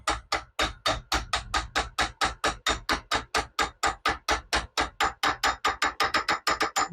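A socket is hammered to drive a bearing into a Hustler Z mower spindle: about two dozen close, sharp metallic blows in a steady, fast rhythm, with no talking.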